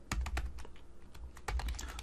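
Rapid keystrokes on a computer keyboard entering a command at a terminal prompt, close and clear, falling in two bursts of clicks with a brief lull between them and no voices.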